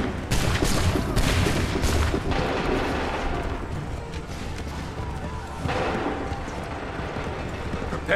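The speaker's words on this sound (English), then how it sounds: "Open fire." Musket volleys in the video game Assassin's Creed III, with loud rolling gunfire and booming crashes at the start and again later, set against a dense battle din.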